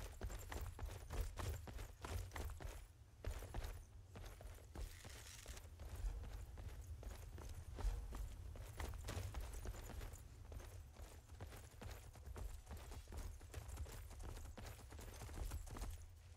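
Horse hooves clop at a steady walking pace in the heavily modded video game Skyrim, a continuous faint rhythmic patter over a low rumbling background.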